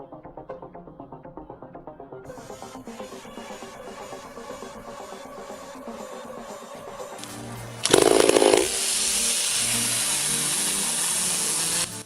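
A chainsaw cuts into a towering sugar pine over 100 years old in a Strawberry Valley forest. It runs with a steady rhythmic engine drone, then surges into a loud, harsh, sustained cutting roar that holds to the end.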